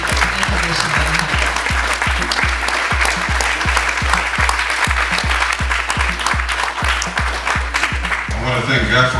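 An audience applauds steadily to welcome a speaker forward in a college chapel, dense sustained clapping with rhythmic thumping underneath, holding at an even level throughout.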